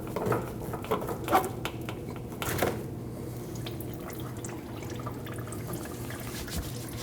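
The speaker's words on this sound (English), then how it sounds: "coolant might leak out of this once you remove your hose, so you'll want a bucket underneath to catch your old fluid" Coolant drips from a radiator hose on a 2012-2021 Nissan NV2500 5.6L V8 into a bucket, faint irregular drips and patters over a low steady background.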